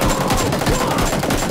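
Rapid gunfire from an AK-style rifle in a Korean online shooter game, a loud close burst of several shots fired in quick succession with no talk over it.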